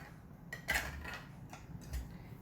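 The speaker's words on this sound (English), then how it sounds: "So I'm going to open the garbanzo bean can." A can of garbanzo beans being opened in a home kitchen while making hummus, heard as a few faint metallic clicks and taps spread over a couple of seconds against quiet room noise.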